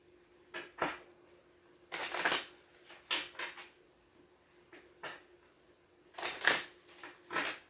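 Tarot cards being shuffled at close range, several quiet bursts of riffling and rustling separated by pauses, with soft handling sounds between them.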